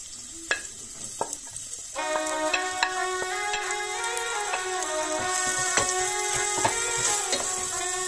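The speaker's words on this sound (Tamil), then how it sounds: "அடுத்தது வெங்காயத்தை போட்டு வதக்க போகிறேன்." Chopped onions sizzle in hot oil with mustard and fenugreek seeds for a Sri Lankan sothi, a couple of sharp pops first, then a steady close frying hiss with stirring scrapes, no talking.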